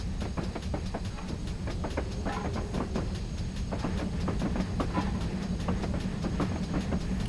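A GWR Hall 4900 class steam locomotive on the Falmouth branch line in Train Simulator runs steadily, with a continuous rumbling roll and rapid rhythmic clickety-clack of wheels over rail joints, no voices.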